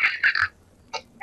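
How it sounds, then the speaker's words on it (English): Wet, clicking mouth noises made with saliva, a quick cluster of three croak-like bursts followed by two more separate ones, close-up with no talking. "take your spit and just make a noise with it"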